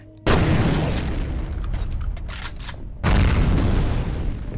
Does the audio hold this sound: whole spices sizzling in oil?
no